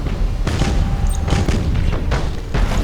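Rumbling torpedo launches and deep explosions in space combat from Battlefleet Gothic: Armada, a continuous loud barrage with repeated booming bursts.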